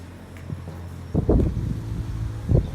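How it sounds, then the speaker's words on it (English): Strong wind gusts from an approaching typhoon buffet the microphone in low, rumbling bursts over a quieter background hum. "You hear the wind right now."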